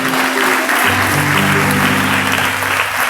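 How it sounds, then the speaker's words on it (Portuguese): Church congregation applauds for Jesus, a dense, loud, continuous wash of clapping heard close up, with a low organ or keyboard tone sustaining underneath throughout. "Você pode aplaudir a Jesus?"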